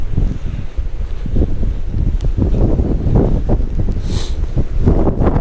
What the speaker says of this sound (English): It's getting a bit too windy here